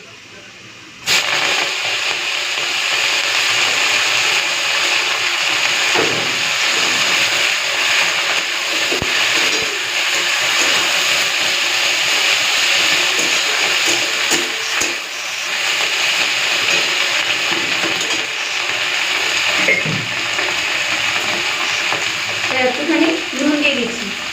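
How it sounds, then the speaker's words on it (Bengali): Leaves frying in a pan with nigella seeds, stirred continuously, producing a loud steady sizzle that starts abruptly and holds for over twenty seconds, with occasional scraping clicks of the stirring spoon. "এরপর এটাকে নেড়ে ফেড়ে একটুখানি ভেজে নিই"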